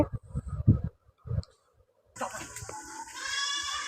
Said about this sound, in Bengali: এই ছাগলগুলো এখন বের হওয়ার জন্য কেমন করতেছে